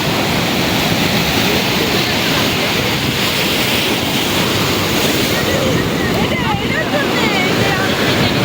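Sea waves at Kuakata beach, a loud, steady roar of surf washing continuously with heavy wind buffeting the microphone throughout, no pauses or distinct breaks.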